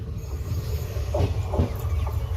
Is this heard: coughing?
no